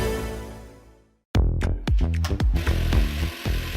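A cordless Axi power tool with switch technology starts up abruptly after a fading lead-in, running loud and close with several sharp bursts and spin-ups, alone without talk.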